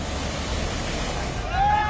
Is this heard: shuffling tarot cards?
no